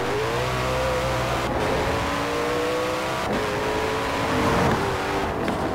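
A Koenigsegg One hypercar in Forza Horizon 4 roars loudly as it revs and accelerates hard, its engine pitch climbing through several gear changes with brief dips between shifts, and no voices over it.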